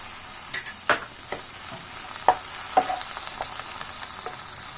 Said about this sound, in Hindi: इसमें हम 1/2 कटोरी और पानी ऐड कर देंगे